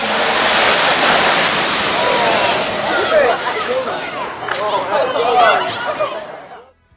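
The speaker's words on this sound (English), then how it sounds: "Never throw water onto a chip pan fire." Water thrown onto a burning chip pan erupts in a loud, roaring whoosh of flame and violent sizzling that surges, crackles, and then dies away toward the end.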